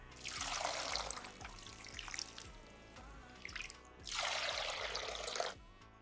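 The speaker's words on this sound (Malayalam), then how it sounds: "ബസുമതി അരി നന്നായി കഴുകിയെടുക്കാം." Basmati rice is rinsed in water: two bursts of swishing, pouring water close by, separated by a quieter stretch of dripping and trickling.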